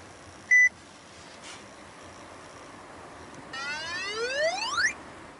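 An electronic car key programming tool used to hack a luxury car gives a short sharp beep, then a quiet pause, then a rising series of warbling electronic chirps that sweep upward near the end.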